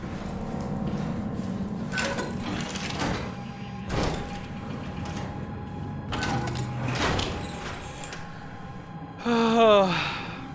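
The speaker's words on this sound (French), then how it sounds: "Évidemment, je peux pas fermer la porte." Door sliding in the Soma video game, with several rushing swooshes set among a low hum, followed by a rising mechanical whine, and a player's gasps and breaths over the top.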